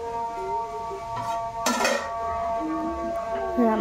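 Pot of rice set down on a kitchen stove to cook, a metallic clank of cookware in the middle with a sustained hum and faint clatter around it, indoors.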